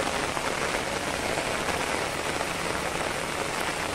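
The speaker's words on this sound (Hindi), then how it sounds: "पूरा बारिश है इधर।" Heavy rain falls steadily on surfaces near a coconut tree and a construction site in Gujarat during the monsoon season, a dense, continuous hiss at constant loudness with no voices.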